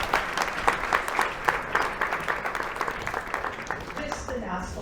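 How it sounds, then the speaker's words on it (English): A crowd claps steadily in sustained applause, dense and even, fading slightly toward the end. "And equal applause for Screen Australia and Manju Mittal."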